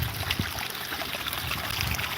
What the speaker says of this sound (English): I could literally sit and listen to this waterfall all day